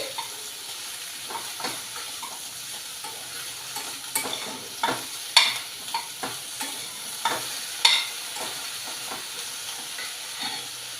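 Capsicum and tomato frying in a pan, stirred now and then over about eleven seconds, giving a constant sizzle under repeated sharp scrapes and clacks of the spoon against the pan, close and fairly loud.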